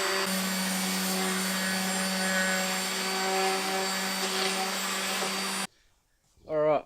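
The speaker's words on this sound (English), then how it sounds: "it's all sanded down. There's fucking dust already going everywhere" A power sander works over a custom front bumper with a steady droning whine, then cuts off abruptly. After a short silence, a voice speaks briefly.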